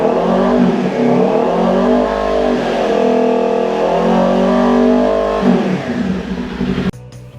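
A 2022 Kawasaki Ninja 400 fitted with an SC Project slip-on exhaust revs hard and close, its engine note rising and holding around high RPM in two long pulls before dropping off abruptly near the end.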